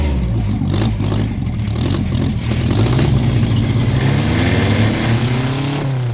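The V4 engine of a belly tank hot rod runs loud and close. It rumbles steadily and rises in pitch as it revs near the end.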